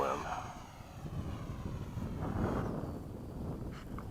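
A Freewing 80mm F-5 RC jet flies in to land into the wind at an Oakdale field, its ducted-fan whine a steady mid-distance rush mixed with gusting wind noise on the microphone.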